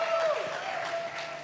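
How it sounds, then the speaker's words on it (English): Audience clapping at a film trailer launch event, a short burst of applause with a tonal hum and some voices layered over it, moderately loud and fading slightly. "Give them a round of applause"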